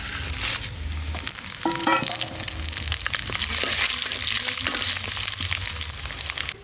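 Bengali five-spice tempering sizzles in hot oil with dried red chillies and bay leaves, a loud continuous crackle and spit with a few metallic stirring clinks, close and uninterrupted.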